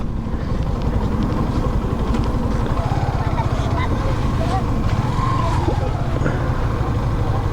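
A motorcycle engine running steadily at close range while riding into a railway station at Jamuna (Bangabandhu) Bridge, a continuous rumbling drone with faint background traffic.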